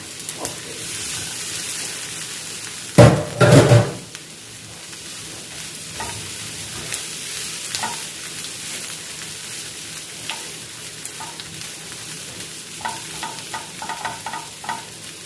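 Mashed potato being mixed in a frying pan gives a low, steady sizzle, one loud scraping stir early on, and light scattered tapping and scraping afterward.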